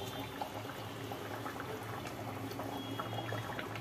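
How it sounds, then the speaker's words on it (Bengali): A covered pot of spicy egg-and-red-lentil fritter curry bubbles steadily on the stove, a continuous close, even simmering hiss and gurgle with no pauses. "ঢাকনা খোলা হলো, চাপা দেওয়া ছিল, বকবক করে ফুটছে"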